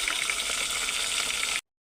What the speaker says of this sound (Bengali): এখন মানে এই মাছটাও ভাজা হচ্ছে